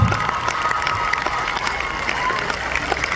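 Applause from the audience at a Hindi comedy poetry gathering in Jhajjar, a loud continuous wash of many hands clapping with cheering and crowd noise, steady from start to end.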